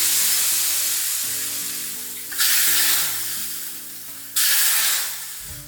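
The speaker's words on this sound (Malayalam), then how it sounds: "കുറച്ച് മുളക് പൊടി കൂടി ഇട്ടിട്ട് ഉള്ളി കാച്ച." Onions fry in a pan with chili powder, a steady loud sizzle and hiss running throughout, with two sharp surges of crackling spatter, no talking.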